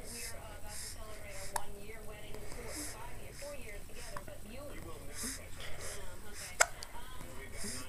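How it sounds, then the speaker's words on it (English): A child hiccups a couple of times, sharp brief jolts spaced several seconds apart, heard up close amid soft talking in a small, cramped space. "you got the hiccups"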